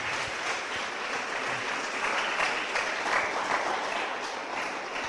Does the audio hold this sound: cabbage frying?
no